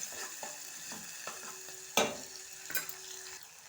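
Onions frying with cloves in a pan, soft sizzling under repeated scraping stirs, with a louder clatter of the utensil midway, close and fairly quiet.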